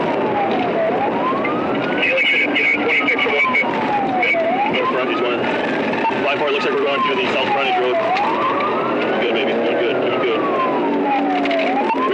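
A sheriff's police car siren wails during a pursuit, rising and falling in long, regular sweeps. It sounds steady and fairly close over a constant road and engine roar.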